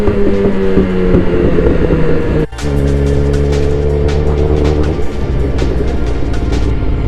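A 2022 Suzuki GSX-R1000 motorcycle's engine and exhaust, loud and close, holding a steady droning rumble with a brief dip partway through before settling back into the same even note.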